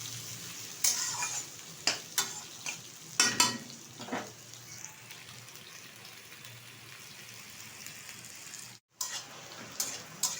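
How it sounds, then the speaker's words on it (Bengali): Two whole garlic cloves frying lightly in oil in a pan make a soft, steady sizzle, broken by a few brief scraping stirs and clatters, close and fairly quiet with no talking. "দিয়ে দিচ্ছি দুটো গোটা রসুন। হালকা করে একটু ভেজে নেব।"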